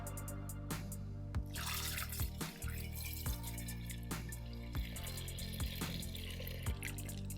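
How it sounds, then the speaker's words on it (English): Homebrew ale wort pours through a funnel into a carboy, making a faint, steady trickling and gurgling with occasional drips and splashes, close and quiet. "We're gonna put it through that hole in the funnel and right down into the carboy."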